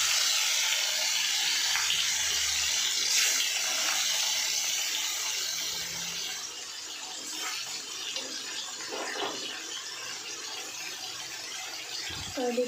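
Warm tap water running over frozen fish to thaw it in a kitchen sink, a steady hiss of flowing water that softens slightly midway, close and alone without voices.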